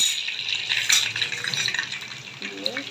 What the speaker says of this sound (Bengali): মাছের তেলে সাজনাগুলো আমি ভেজে নেব